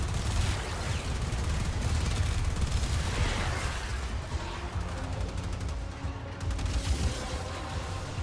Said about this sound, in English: just take your big AoE pistol and just mow them down through the hallway